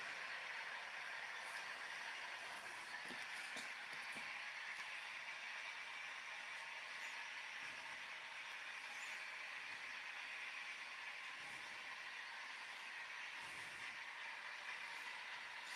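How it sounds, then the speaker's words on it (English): Continuous rattling rumble of small model trains running on a track, steady and moderately loud, with faint clicks over a constant whirring hiss. "we'll watch the trains go around one more time"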